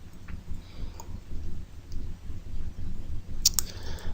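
Mouse clicks while working in PLC panel software, a few sharp, quick clicks standing out near the end over a steady low background hum.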